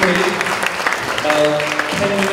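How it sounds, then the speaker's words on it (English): Applause from an audience following a student team's presentation at an awards event, with voices and harmonic tones from other sound mixed in alongside the clapping. "let's give them a round of applause"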